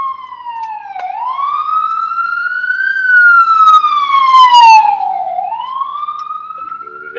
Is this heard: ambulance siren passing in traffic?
yes